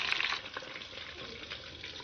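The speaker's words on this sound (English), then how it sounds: "Render all the fat really nice from one side." Duck meat frying skin-side down in a pan to render the fat, a steady soft sizzle and crackle heard close up.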